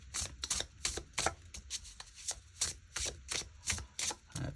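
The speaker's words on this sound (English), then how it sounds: "I'm going to get one more card from here." Tarot cards shuffled and riffled by hand, a dense run of crisp, rapid paper flicks and slaps in irregular bursts, close and fairly quiet, with no talking.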